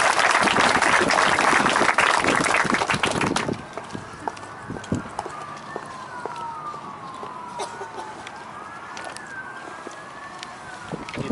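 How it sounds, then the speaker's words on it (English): Audience applause at a high school awards night, a loud dense burst of clapping for the first three seconds that drops away abruptly, followed by a quieter stretch with a distant siren wailing up and down in the background. "so let's give him a round of applause."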